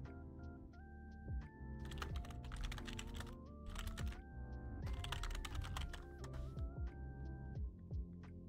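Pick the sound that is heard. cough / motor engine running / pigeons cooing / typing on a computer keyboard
typing on a computer keyboard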